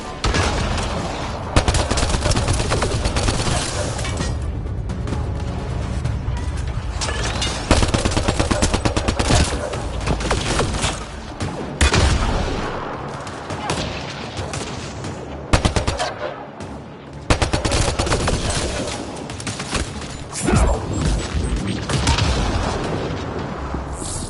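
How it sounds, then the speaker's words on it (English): A firefight in the game Mass Effect Andromeda fills the space with loud, continuous gunfire: rapid automatic bursts overlap with heavy blasts, with only brief lulls. "Just keep firing, we can do this!"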